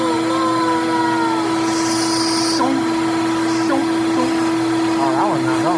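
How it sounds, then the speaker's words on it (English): Vacuum cleaner sucking dust and debris out of a PS5 console during an HDMI port repair, a steady loud whine running throughout with brief bursts as the nozzle moves; a person talks over it. "I'm gonna go ahead and vacuum this up, brush it off a little bit"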